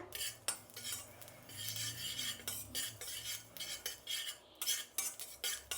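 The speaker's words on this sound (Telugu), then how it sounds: "నూగులు కూడా బాగా చిట్లుతుందండి" Sesame seeds roast in a pan, with bursts of crackle mixed with repeated scraping and clinking of a metal spoon stirring against the pan, close and fairly quiet.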